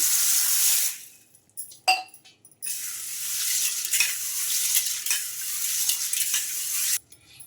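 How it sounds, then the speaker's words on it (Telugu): Green gram (moong) being swished and rinsed by hand in a bowl of water, bursts of splashing and sloshing broken by short pauses and a light clink of the bowl, close and without speech. "ఈ పెసల్ని ఒక 2 సార్లు శుభ్రంగా వాష్ చేసుకోవాలి వాటర్ వేసుకొని"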